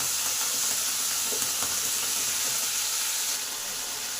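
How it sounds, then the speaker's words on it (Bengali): Potatoes frying in oil in a pan give a close, continuous sizzle with steady crackling throughout and a few faint stirring knocks, with no talk. "এই দিকটা আলুগুলো দিয়ে দিলাম তাতে আলুগুলো ভাজা ভাজা হয়ে যাবে"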